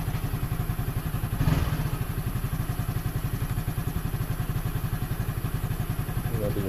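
A 2023 Yamaha Fazzio scooter starting on one press, then idling with a fast, steady mechanical putter that stays close and moderately quiet.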